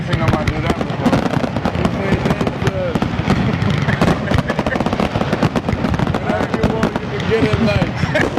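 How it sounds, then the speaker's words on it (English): Backyard fireworks for a birthday crackle and bang in a dense, continuous barrage of sharp bursts, loud and close, with voices mixed in. "You got fireworks in the backyard."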